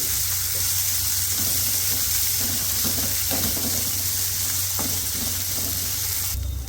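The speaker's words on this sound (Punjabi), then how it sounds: "ਇਹਨਾਂ ਦੋਵਾਂ ਨੂੰ ਤੜਕੇ ਦੇ ਵਿੱਚ ਪਾ ਦਾਂਗੇ ਤਿੰਨਾਂ ਚੀਜ਼ਾਂ ਨੂੰ 2 ਮਿੰਟ ਵਾਸਤੇ ਅਦਕਰ ਲਸਣ ਨੂੰ ਭੁੰਨ ਲਵਾਂਗੇ" Green chillies, ginger and garlic roasting in hot oil as a tempering, a dense, continuous sizzle with faint scraping of stirring underneath, steady and close throughout.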